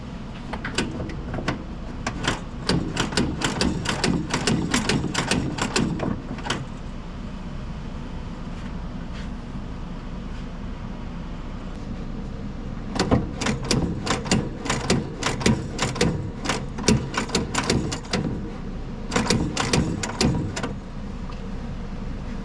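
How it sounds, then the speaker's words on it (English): On a zero turn mower, a parking brake is engaged and disengaged several times, producing bursts of rapid mechanical clicking and ratcheting over a steady background hum, separated by a quieter gap in the middle. "I'm going to engage and disengage that brake up top a few times here."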